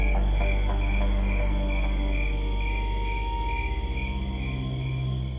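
Crickets chirping in a built rainforest habitat, a constant pulsing trill over a low steady hum that carries on throughout at an even level.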